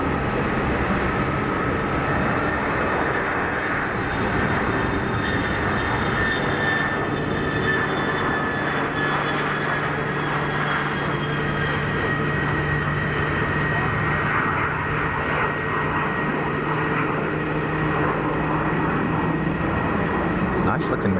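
Jet engines of an Airbus A220 spool up on the takeoff roll at Geneva Airport, a steady loud roar with a rising whine that fills the whole stretch, while a voice talks over it.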